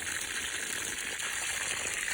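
A bucket of water poured onto the roots of a grapevine in September, with potassium added, makes a steady, close gushing splash that runs unbroken for the whole stretch.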